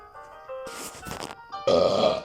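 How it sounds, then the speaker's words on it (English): A man lets out a loud, close belch, a rough throaty burp that swells at the end after a few short grunting sounds. "It was not my intention to belch like that."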